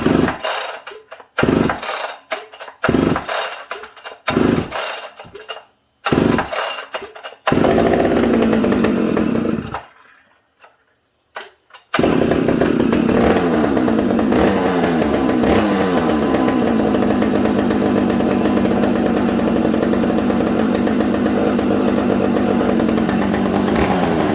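A chainsaw with no bar fitted sputters through repeated start attempts, catches briefly, then runs continuously on fast idle, a loud, close, steady buzzing engine drone.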